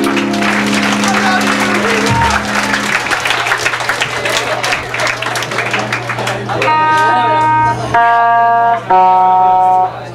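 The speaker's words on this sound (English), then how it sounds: "give yourself a huge round of applause" A crowd claps and cheers at a farewell rock show at Chain Reaction, the dense applause mixed with shouting and lingering amplified guitar tones and hum, then sustained electronic feedback and synth notes ring out near the end.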